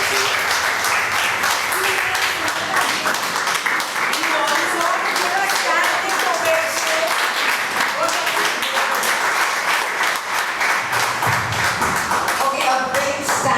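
Sustained audience applause closing a talk on the feminine in Hinduism, loud and steady with individual claps audible, and voices talking over the clapping.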